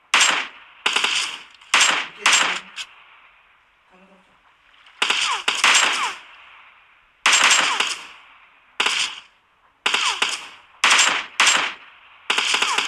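Bursts of automatic gunfire from the battle royale game PUBG crackle in short repeated volleys with brief pauses between them, loud and close, interspersed with quieter gaps.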